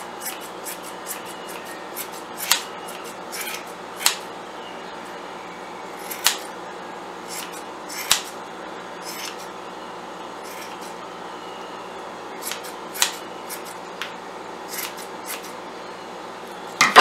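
Scissors trimming stray yarn from an XL yarn pom pom, quiet crisp snips recurring irregularly, some single and some in quick clusters, close up against a faint hushed background with no talking.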